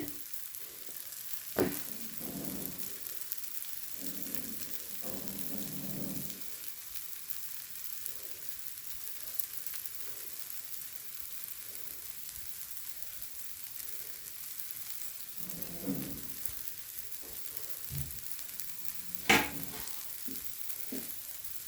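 Dosa batter cooking on a hot pan gives a continuous soft sizzle and crackle that lasts throughout, with a few louder scraping or turning sounds and no talking.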